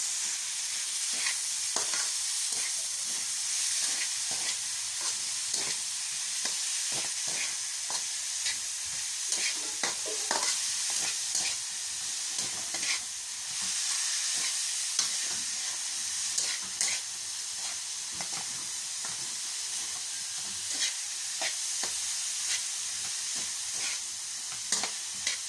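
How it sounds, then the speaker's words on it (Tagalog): A spoon stirs pork and liver adobo with soy sauce in a hot pan, a steady oily sizzle with frequent scraping clicks of the utensil against the pan, close and continuous throughout, no talking. "Then, haluin natin guys."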